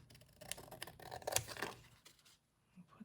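Scissors snip through paper for a junk journal, a handful of quick, crisp cuts close by in the first two seconds, then near silence.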